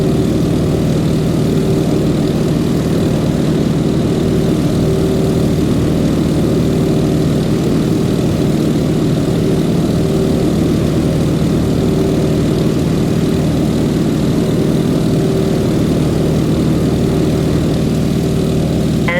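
Stearman biplane's radial engine during takeoff, a loud, steady propeller drone with a constant low throbbing hum that holds unchanged for the whole stretch, close and with no voices.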